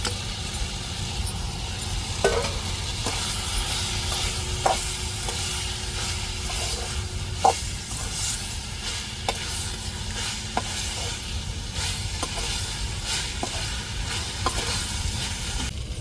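Brinjal poriyal with stone-ground coconut, chilli and garlic stirred in a pan, a steady sizzle of frying with repeated scraping clicks of the spoon against the vessel.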